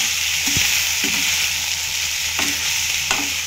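Pasta frying in a pan, a steady close sizzle broken by a few soft stirring scrapes and clicks, with no voices.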